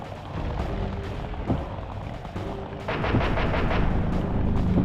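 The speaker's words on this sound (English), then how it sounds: "My missiles don't hurt him but seem to create holes in his armor." Missile explosions and heavy booming fire in a Sly Cooper boss fight, a dense loud barrage of blasts that thickens into continuous rumbling impacts.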